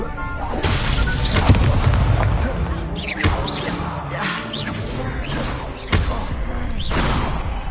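Incendio fire spells cast in Hogwarts Legacy combat: repeated booming bursts and sharp whooshes, with crashing impacts arriving every second or two over dense battle noise.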